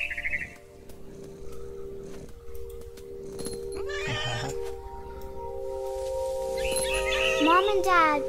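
Cat meowing in a video game, drawn-out rising meows and a yowl near the end over a steady game drone, with a voice-like sound partway through.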